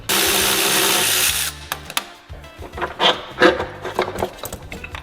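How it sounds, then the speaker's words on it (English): A power tool undoes a bolt on an engine mount bracket of a Toyota Sera, with a loud steady whir for about a second and a half, then scattered clanks and scraping of metal parts. "Now there's one more bolt to undo."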